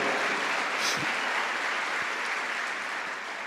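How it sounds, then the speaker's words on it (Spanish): Congregation applauding during a church service: steady, dense clapping from a crowd fills the space, fairly close and even throughout, easing slightly toward the end. "Dale un aplauso a Él si quiere, aleluya."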